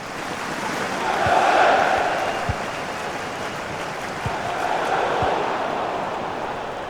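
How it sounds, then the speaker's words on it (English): A broad crowd roar from the FIFA 20 video game swells and fades twice, a steady wash of distant voices from a packed stadium with a few low thuds beneath. "now listen to the crowd"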